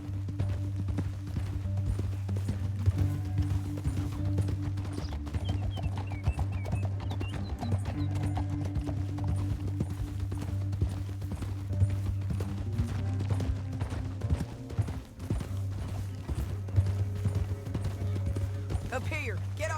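Steady clip-clop of horse hooves on a trail in the video game Red Dead Redemption 2, a rhythmic moderate beat under a low music bed and sparse talk, holding evenly for about twenty seconds.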